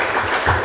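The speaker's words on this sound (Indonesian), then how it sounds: "Kasih tepuk tangan untuk Tuhan Yesus." A church congregation applauds with a dense, loud wash of hand clapping, brief and continuous.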